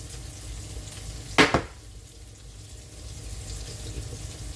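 Oil and garlic salt land in a hot pan with a sudden sharp sizzle that quickly settles into a low, steady frying hiss.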